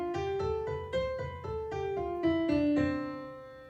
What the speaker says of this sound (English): or really any major scale should sound like this.